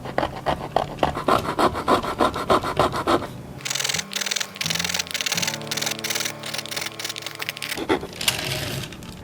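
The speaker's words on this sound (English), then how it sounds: "I'm going to go along each line of the feather here and just start sanding away and smooth out all my lines that I have." Hand sanding of a wood carving of a feather with a riffler file, a steady rubbing rasp along the carved lines, close up, with a stretch of stroking and a quieter hum in the middle.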